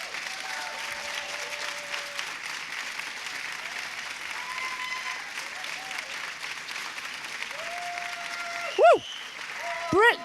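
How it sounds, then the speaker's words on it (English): A large audience at the Inspire Stage at RIAT25, the Royal International Air Tattoo, gives a long, steady round of applause that carries on for several seconds, with a voice whooping and calling out over it near the end. "can everyone give a huge round of applause?"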